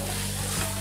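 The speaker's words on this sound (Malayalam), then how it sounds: "ചിക്കൻ ഹൈ ഫ്ലെയിമിലിട്ട് തന്നെ ഒന്ന് നന്നായിട്ട് ഇതുമായിട്ടൊക്കെ ഒന്ന് യോജിപ്പിച്ചെടുക്കണം" Chicken pieces for Kerala chicken biryani frying on a high flame while being stirred in a pan, a loud, steady sizzle with scraping stir strokes close by and no talk.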